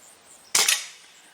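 A single sharp crack from a Stoeger A30 air rifle firing a pellet, close and loud with a brief ringing tail in a quiet setting.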